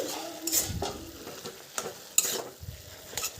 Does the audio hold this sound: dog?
no